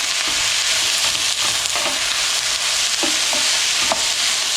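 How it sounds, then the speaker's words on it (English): Garlic stirred into a sizzling pepper mixture in a pan: loud, close crackling sizzle with several spoon scrapes and knocks against the pan, no voices. "now I'm gonna add in like a teaspoon of garlic. We're just gonna stir this in."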